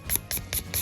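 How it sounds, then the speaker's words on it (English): Nail buffer file gently rubbed across a smooth, shiny polygel nail surface, giving four evenly spaced soft rasping strokes close up, with no voices. "So just gently buffing that smooth, shiny surface"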